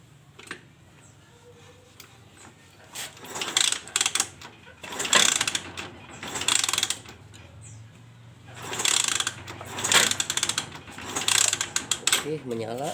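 A two-wheeled motorcycle's kick-starter is cranked repeatedly during an electrical check. It makes several separate bursts of loud ratcheting, clattering mechanical noise with quieter pauses between them.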